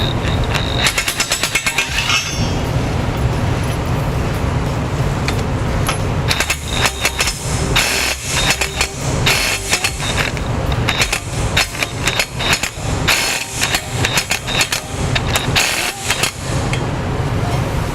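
Loud power tool hammering rapidly and almost without pause for about eighteen seconds while trailer hitch bolts are tightened on a 2013 Ford Explorer, with a brief lull near the start.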